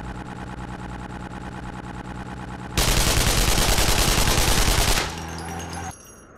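A mounted machine gun fires in the video game Terrorist Takedown, a loud dense burst of rapid gunfire lasting about two seconds between stretches of rumbling vehicle engine.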